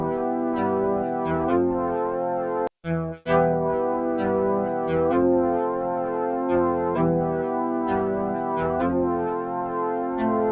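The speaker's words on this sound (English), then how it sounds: "This sound is made up of a square wave with the added sub wave included as well for that added body." A Roland Juno synth pad built from a square wave plus sub oscillator plays sustained chords with a steady LFO wobble, clean and alone, with one brief cut in the middle.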